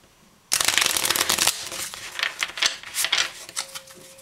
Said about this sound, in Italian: Mescolo le carte